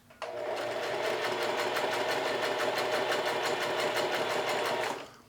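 A sewing machine straight-stitches along apron fabric in one continuous, steady run of rapid needle strokes lasting about five seconds, close up and alone.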